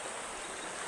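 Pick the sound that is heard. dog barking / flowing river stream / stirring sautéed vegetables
flowing river stream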